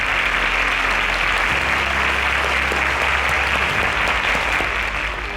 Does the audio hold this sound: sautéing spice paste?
no